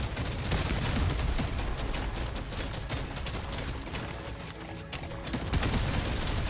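Rapid shotgun fire in Deep Rock Galactic Survivor, a dense continuous barrage of blasts with mechanical clatter, loud and steady for several seconds without talk.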